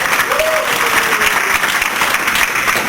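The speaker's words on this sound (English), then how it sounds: "We give one more round of applause for everybody." A round of applause from the audience at a weekly entrepreneur gathering, thanking the organizers, with dense steady clapping throughout and a brief voice rising over it near the start.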